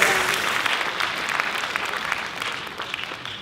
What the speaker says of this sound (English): give a round of applause to show your yes.